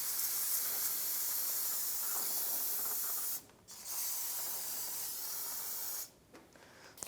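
Steady hissing spray of cleaner blasting brake fluid off a corroded front shock mount on a 1992-1996 Ford F-150, close and continuous, with two short pauses.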